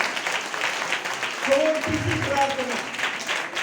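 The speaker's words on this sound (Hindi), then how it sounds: "प्रभु का ताली बजा के धन्यवाद करो भाई" A church congregation applauds in thanks to God during a Hindi sermon, giving a dense, continuous wash of hand clapping. Speech is heard over it.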